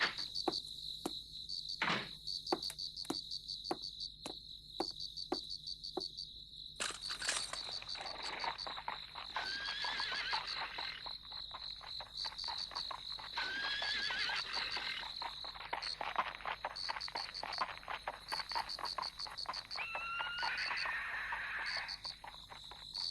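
A horse neighs several times in a rural night setting, shrill whinnies rising over a steady chorus of crickets and frogs, with sharp rhythmic clicks at the start.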